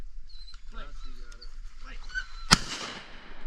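A single loud shotgun blast during a public-land duck hunt in Wisconsin, a sharp close report after quieter moments of people talking and ducks calling.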